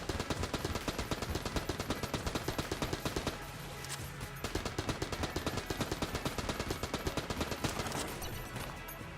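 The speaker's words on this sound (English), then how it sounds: "the bullets are just hitting the wall and immediately dissipating" Rapid, continuous gunfire from the bullet-hell game Enter the Gungeon, a dense rattling stream of shots and impacts against a wall that carries on steadily throughout, loud and busy with no talking.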